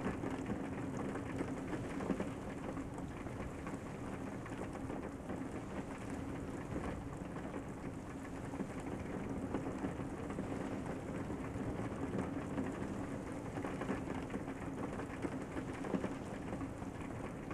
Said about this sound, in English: So if you just want to listen to the sounds of the rain